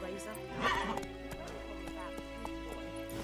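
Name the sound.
horse neighing and galloping, from video game The Witcher 3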